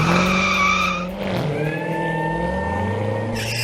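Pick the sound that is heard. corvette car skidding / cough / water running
corvette car skidding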